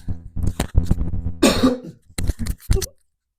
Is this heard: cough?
yes